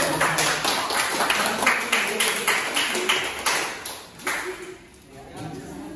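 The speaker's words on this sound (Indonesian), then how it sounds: "Silakan beri tepuk tangan." Classroom applause after a student group's presentation, a run of sharp overlapping claps that thins and fades toward the end, with talking in the room underneath.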